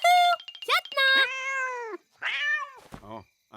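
Cartoon cat from the Smurfs meowing at the wizard in a series of loud, drawn-out, wavering meows and yowls, close and alone, with a brief higher cry at the end.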